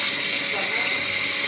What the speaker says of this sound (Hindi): गर्म पानी मिल गया मोहम्मद हसन को तो इसको अच्छा लग रहा है